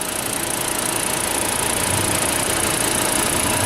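A 2008 Volkswagen New Beetle engine idles close by with a steady, even rumble and a faint rhythmic tick, unbroken for the whole stretch.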